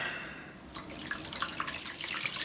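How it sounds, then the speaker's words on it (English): Water pours into a Garrett gold pan, a steady close splashing and trickling that swells after a quiet start and carries on with small dripping bursts. "I'm gonna add some water"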